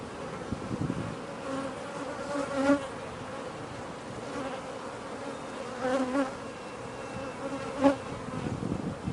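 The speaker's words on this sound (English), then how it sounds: "Piping is believed to be made by a queen that wants to fight or is ready to fight" A dense, steady beehive buzz fills the clip, slightly muffled, with three brief tonal piping bursts from a queen bee rising out of the drone.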